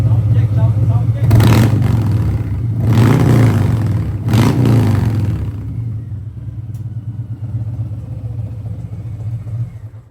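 A Harley-Davidson FXDR motorcycle engine revs loud and close in three strong bursts over a deep steady idle, then settles back into a rumbling idle.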